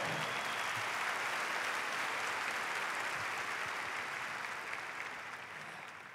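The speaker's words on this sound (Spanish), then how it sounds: "Dale un aplauso al Señor." A congregation claps together in a large church, a steady, dense wall of applause that runs evenly throughout and only eases slightly at the very end.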